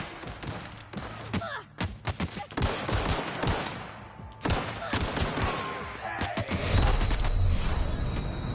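Gunfire in the video game The Outer Worlds, with bursts of rapid shots and single cracks over about eight seconds, loud and near, with a player's brief exclamations mixed in.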